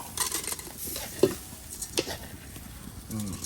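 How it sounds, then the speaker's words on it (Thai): Rice being stir-fried in a pan, with a spatula scraping and stirring, soft sizzling and occasional metallic clinks against the pan, all close and moderately loud. "แล้วก็ผัดไปเรื่อย อันนี้ เราก็ ผัด ให้เข้ากันนะครับ"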